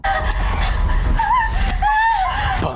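A family screaming, several high wavering shrieks and moans rising and falling over a low rumbling background, loud and close.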